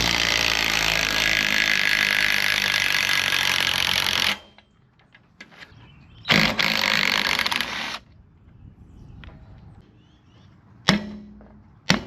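A Sawzall reciprocating saw cuts through a boat trailer frame in loud, buzzing bursts, first a long run and then shorter ones, with quiet clanks and pauses between them.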